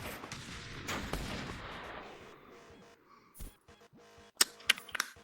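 AK rifle gunfire in a roleplay video game, faint overall: a muffled stretch of noise gives way to a few sharp shots, then a quick cluster of cracking reports near the end.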